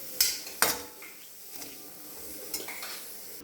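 Cucumber salad with rock salt, sugar and coriander is mixed in a bowl. A few sharp spoon clinks against the bowl come over a soft background hiss, with quieter scraping between them and no talk.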